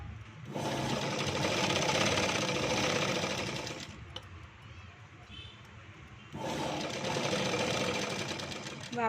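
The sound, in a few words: sewing machine stitching piping on a potli neck design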